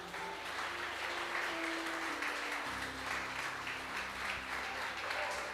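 Church congregation applauding during an evening service at a Baptist church: a steady, dense wash of clapping that continues for several seconds, with sustained musical tones underneath.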